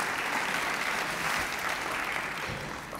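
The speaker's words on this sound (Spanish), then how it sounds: "Recibimos con un aplauso al ingeniero Jason Henry Atoche Medrano." An audience at a nanoscience talk applauds to welcome an engineer to the stage, a steady, dense wash of clapping that holds evenly for a few seconds before easing slightly.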